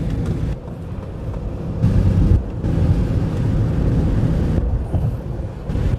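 A fifth-generation Honda CR-V diesel engine with an excess-particulate DPF fault revs as the accelerator is pressed, a loud steady rumble that swells and eases, heard up close with no talking.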